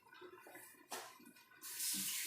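Water from a tap washing garlic and ginger in a kitchen, a faint splash and trickle that swells into a louder steady rush near the end.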